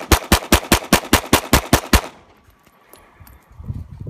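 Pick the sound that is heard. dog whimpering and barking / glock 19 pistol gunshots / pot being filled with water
glock 19 pistol gunshots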